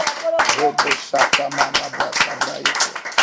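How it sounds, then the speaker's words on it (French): A church congregation clapping at a French-language worship service, a quick run of sharp handclaps close by, rhythmic and fairly loud, with voices mixed in. "Est-ce que tu peux applaudir le Seigneur?"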